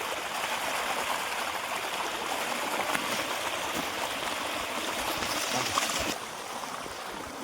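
Water rushes continuously down a hidden waterfall stream near Mazidpur village by Ramoji Film City, Hyderabad, a steady, close wash of flowing water with no voices.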